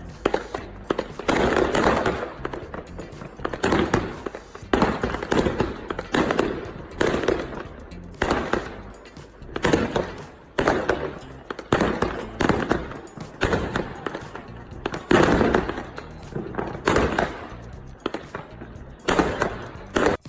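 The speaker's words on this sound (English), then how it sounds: "a man uses fireworks against an excavator that came to demolish his house" Fireworks fired at an excavator sent to demolish a man's house in China, a long run of loud crackling bursts and bangs repeating through the whole stretch, dense and close with little pause.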